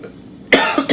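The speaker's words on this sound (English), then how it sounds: "I'll get moments like this, where it's just a string of coughing." A quiet stretch, then a burst of harsh coughing starting midway, with a second short cough near the end; close and loud.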